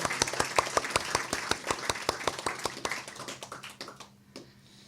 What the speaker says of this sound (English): let's have a round of applause for Jay Millar